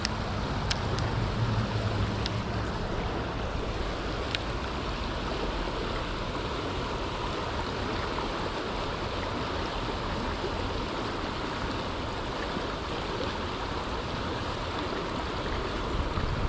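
River rapids rush in a constant, loud roar of churning water right beside the listener, steady throughout with no voices.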